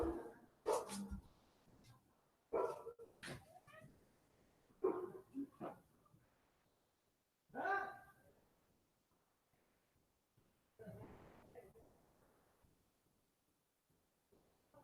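Indoor dogs bark in several separate bursts of one to three sharp barks, fairly close, with quiet pauses between them.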